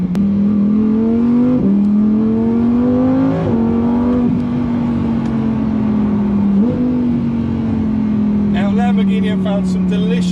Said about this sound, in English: And the noise as it powers through the revs, it just sings.